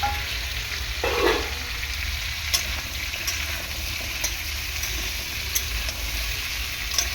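Vegetables including pumpkin and tomato sizzle in hot oil alongside soybean chunks, with a steady crackling hiss close by, a few sharp utensil clicks and scrapes from stirring, and no voices.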